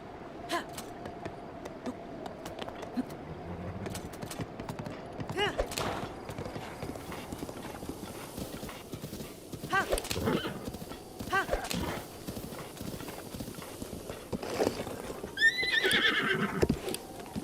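A horse in The Legend of Zelda: Breath of the Wild gallops with steady rhythmic hoofbeats throughout and whinnies loudly near the end, with game ambience underneath.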